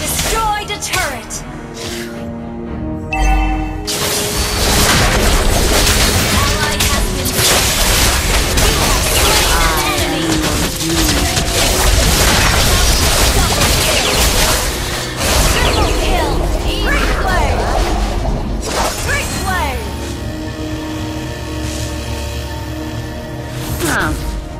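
A turret is destroyed in the Mobile Legends video game, and a booming crash bursts out over dense, loud battle effects, whooshes and pops that keep up steadily the whole time, while a game announcer's voice speaks over them.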